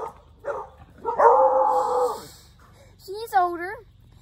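A hunting dog gives a few short barks and a drawn-out whining yelp at close range, separated by brief pauses.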